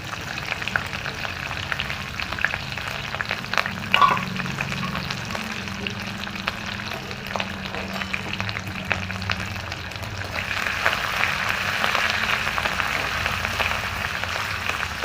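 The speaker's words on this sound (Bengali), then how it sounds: "আদাটা একটু ভাজা হয়ে গেছে।" Chopped ginger, dried red chillies and bay leaf frying in a pan, a steady crackling sizzle that grows somewhat louder and denser toward the end.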